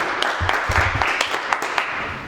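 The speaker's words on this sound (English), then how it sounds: "Let's give Jev another round of applause" A small meetup audience applauds a presenter with a steady, dense patter of many hands clapping throughout, moderately close and with no talk over it.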